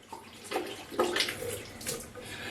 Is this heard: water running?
yes